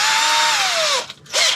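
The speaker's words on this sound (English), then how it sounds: "I'm going to drill a hole into the piston here" A power drill whines loud and close as it bores into a piston, a high sustained motor tone that dips in pitch under load, stops briefly, then spins up again.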